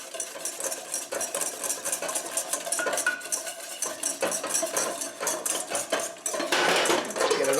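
A whisk clatters rapidly against a bowl as eggs are beaten with warm melted butter into an emulsion, a continuous close metallic rattling with brief pauses, and no voices.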